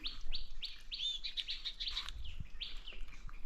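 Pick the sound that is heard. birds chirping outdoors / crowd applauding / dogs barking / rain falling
birds chirping outdoors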